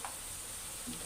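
Cumin powder fries quietly in a pan, a faint steady sizzle with a soft stirring touch at the start and end of the brief moment.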